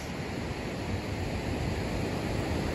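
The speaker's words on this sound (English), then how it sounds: "I love the waves. That's like one of my favorite things." Steady broadband wash of ocean surf on a beach, a constant dense hiss and rumble with no distinct breaks, close and fairly even in loudness, with no voices.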